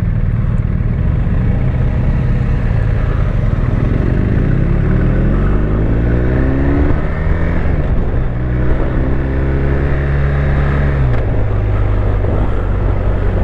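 A 2021 BMW R1250 RT motorcycle being ridden, its engine droning loud and close as it climbs through rising revs, dips at a gear change, then holds a steady pitch against constant wind rush.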